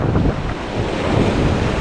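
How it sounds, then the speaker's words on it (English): Strong wind roars and buffets close to the microphone, a constant loud rushing with a faint wash of surf beneath it. "It's really windy."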